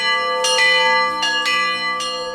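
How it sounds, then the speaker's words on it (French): A church bell rings in Ein Karem on the eve of the feast of Saint John, with three loud clanging strikes leaving a long, bright ringing hum between them. "La veille de la fête de la Saint-Jean, la cloche sonne pour annoncer le début de la célébration"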